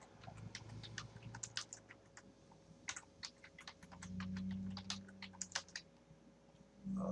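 A computer keyboard clicks out a password in quick irregular bursts of keystrokes, close and fairly quiet, with short pauses and no talk.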